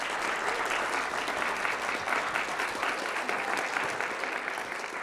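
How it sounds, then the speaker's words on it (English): Sustained applause from an audience at a regional operations roundtable, honoring council members; even, continuous clapping from a sizable crowd with no talk over it. "Can I get a round of applause for my council members?"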